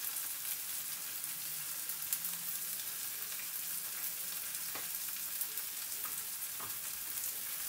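A potato and peas masala sizzles and fries steadily in a pan, a continuous soft crackling hiss with occasional faint clicks, close and even throughout.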